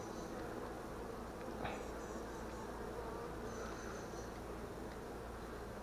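Many honey bees buzz steadily at close range around an open hive, a dense, continuous hum with individual insects droning past now and then.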